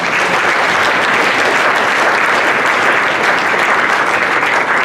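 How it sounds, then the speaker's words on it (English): A crowd at a Tamil community cultural event applauds steadily, a dense, even wash of clapping that stays loud throughout with no voices. "Can we have a round of applause?"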